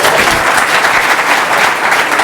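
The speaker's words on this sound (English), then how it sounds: "You are going to participate, I hope, by applause" A live audience at the Féile an Phobail leaders debate breaks into loud, sustained applause, a dense wash of clapping heard close throughout.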